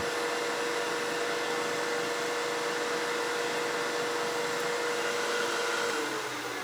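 An acrylic blank spins on a lathe while being buffed with a clean rag, giving a steady, close whirring rush with a faint hum and even rubbing texture throughout and no talking.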